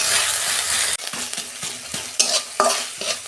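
Fish curry masala with ginger and garlic frying in a pan, an opening sizzle that drops off into a series of sharp spatula scrapes and clinks against the pan, up close and with no speech.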